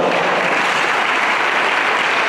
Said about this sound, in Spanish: Un fuerte aplauso al Señor en esta hora.